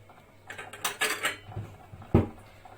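A few light clinks and clatters of ceramic dishes and cutlery, close by, ending in one sharper knock of a small plate being set down.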